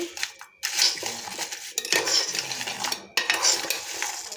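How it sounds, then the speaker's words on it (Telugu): Chillies, curry leaves, garlic and cumin roast in a little oil in a pan, with loud, repeated metal scraping and clinking of a utensil against the pan over a light sizzle, in uneven bursts. "వెల్లుల్లి జీలకర్ర ఇవన్నీ బాగా వేయించుకోవాలి కొంచెం ఆయిల్ వేసి బాగా వేయించుకోవాలి"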